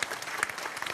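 A studio audience claps during a televised cooking show while beef Gascon-style Rossini is flambéed, a brisk, crackling burst of many hands at moderate loudness with a few sharper slaps standing out.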